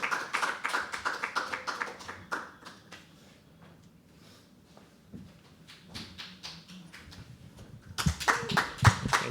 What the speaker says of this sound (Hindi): तालियां बजती रहे यार, तालियां बजती रहे, तालियां बजती रहे।